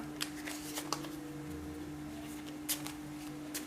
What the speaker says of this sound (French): je vais couper le paquet en deux